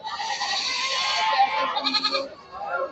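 Goats bleat loudly at a crowded goat market, several overlapping nasal cries in quick succession up close, with faint crowd murmur behind them.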